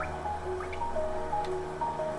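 Water drips steadily in the rain-soaked underground city of Hollow Knight, a run of soft, clear plinks over a low, constant wet ambience.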